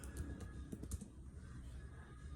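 Typing on a computer keyboard into a PowerPoint text box, a short quick cluster of soft keystrokes in the first second, then a faint steady background hum, quiet and without speech.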